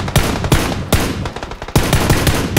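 Gunfire in PUBG Battlegrounds snaps out as loud, close, rapid bursts of shots in an uneven rhythm, several quick strings with brief gaps between them.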